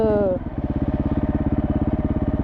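A motorcycle engine during wheelie practice, revving briefly and then settling into a loud, steady pulsing idle close by, with a voice at the start.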